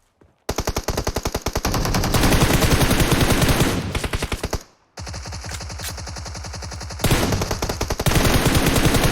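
Rapid bursts of automatic gunfire in PUBG Mobile, loud and close, with brief pauses between sustained volleys.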